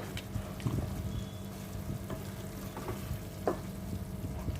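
Cumin, chili and turmeric frying in oil with a splash of water, a soft close sizzle with occasional stirring scrapes and clicks under a low background hum.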